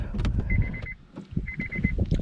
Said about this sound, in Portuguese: Vocês estão escutando agora o alarme de porta do carro, porta aberta.